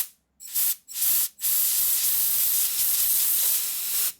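A compressed air line blows through an oil hole in a welded 1947 Harley EL knucklehead 74ci engine case: two short bursts of loud hiss, then one strong steady blast held for nearly three seconds.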